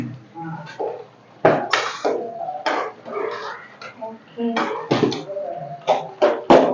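Biryani being stirred in a metal cooking pot with a spoon, making repeated clattering scrapes and clinks against the pot in an irregular rhythm, close and fairly loud.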